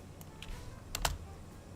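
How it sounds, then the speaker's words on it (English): Keys clack on a computer keyboard during a game stream, a few sparse taps with a sharper double stroke near the middle, close and fairly quiet with no talk. "try typing this in to see if I can respond."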